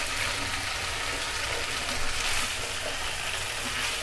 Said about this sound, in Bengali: একটু কষিয়ে নিচ্ছি 2 মিনিট।